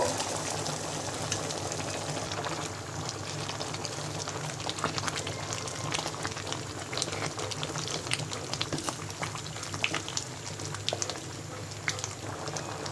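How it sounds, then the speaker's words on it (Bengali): An onion-garlic tempering goes into simmering vegetable dal, giving a soft continuous bubbling and sizzling with small liquid pops throughout, fairly quiet and with no talk. "এবার আমি পেঁয়াজ রসুনের ফোড়নটা দিয়ে দিব"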